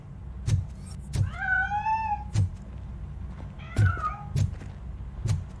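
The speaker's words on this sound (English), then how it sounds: "That cat must be hiding inside." Drawn-out meows from a cat in Robocop: Rogue City, two clear wavering cries among repeated soft thuds, close and distinct with no talking.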